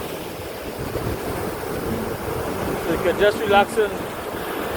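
Surf washing onto a Caribbean beach, a steady broadband rush of waves mixed with wind noise across the microphone, with a person talking over it.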